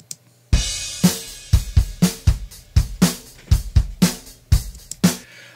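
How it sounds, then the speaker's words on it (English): A steady drum beat plays alone, kick and snare alternating with bright cymbal wash, punchy hits with natural, uneven dynamics. "The drum sounds like this without any compression."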